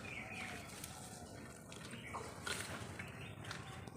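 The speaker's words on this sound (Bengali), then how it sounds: "খেয়ে উঠে আগে গাছে জলটা দিয়ে দিলাম" Water poured from a vessel onto a plant, a steady splashing trickle with faint drips over a noisy outdoor background.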